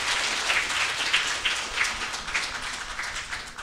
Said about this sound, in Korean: 우레와 같은 박수 부탁드립니다